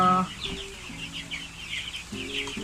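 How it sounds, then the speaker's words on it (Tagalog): Chicks cheep indoors in a home kitchen during a typhoon, making a run of close, high, quick chirps over a low background hum, with a few short voiced sounds mixed in. "mga sisiw po na inilipat ko po dito sa dito mismo sa loob ng bahay namin sa may kusina namin"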